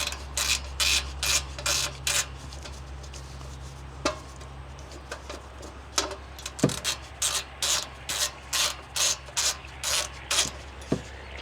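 Repeated quick clicking bursts from a hand ratchet loosening 10mm bolts on an engine oil inspection plate, a steady run of short ratcheting strokes with brief pauses and a couple of sharp knocks, close up over a low hum.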